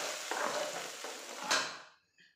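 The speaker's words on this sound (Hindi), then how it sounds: "जो हमने टमाटर की प्यूरी बनाई थी वो डालेंगे। सभी चीज़ों को अच्छे से मिक्स करेंगे।" A spoon stirs tomato puree mixed into a pan of frying chhole, a soft sizzle with light scraping strokes and a sharper knock near the end before it fades out.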